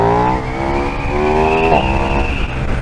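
A KTM 1390 Super Duke R motorcycle pulls hard under acceleration, a loud, close engine note climbing steadily in pitch with one brief shift midway, running continuously without speech.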